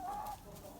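A hen or rooster in a snowy-season breeding pen gives a single faint, short cluck-like call, heard alone against quiet background.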